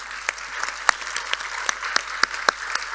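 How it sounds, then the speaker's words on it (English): Sparse applause for panelists at a conference in a concert hall, a thin scattering of individual claps with a few sharp, louder hits standing out against a quiet room. "I just wanted to give a real warm applause to our panelists"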